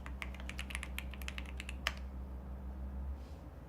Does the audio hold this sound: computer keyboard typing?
yes